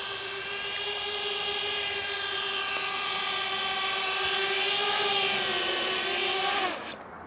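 A Walkera F210 3D racing drone flies in to land, its rotors giving a steady, high, buzzing whine that swells slightly before dropping in pitch and cutting off abruptly as the motors stop.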